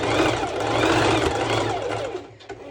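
A sewing machine runs a straight stitch on swimsuit fabric, whirring steadily at close range before slowing near the end.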